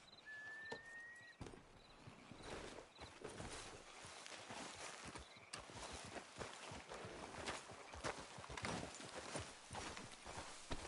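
Horse hooves clip-clop at a steady walking pace in a video game, a close, continuous rhythm of hoofbeats over faint ambient sound, with a brief whistle-like tone near the start.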